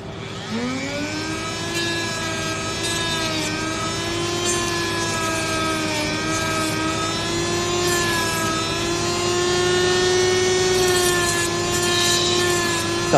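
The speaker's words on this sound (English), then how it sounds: "so let me sand this a little bit." A flex shaft rotary tool sanding an ebony wood ring, a sustained high motor whine that ramps up at the start and then holds steady with slight pitch wobbles as the abrasive bites the wood, close and loud.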